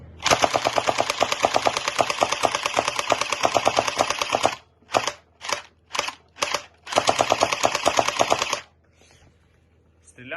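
An AK-style gel ball toy blaster fires long rapid bursts of sharp clicking shots, broken by a few short bursts in between, then stops.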